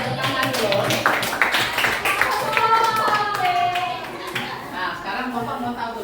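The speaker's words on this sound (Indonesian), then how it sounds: "Lihat tepuk tangan dulu." Students clapping in a classroom, a scattered burst of hand claps under a teacher's talking voice and children's chatter.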